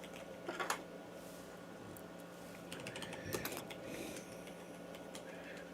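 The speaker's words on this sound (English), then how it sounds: "I'm typing, I hate this movie." Typing on a computer keyboard, quiet scattered clicks and short bursts of keystrokes in a soft room background, faint and close, with no talk.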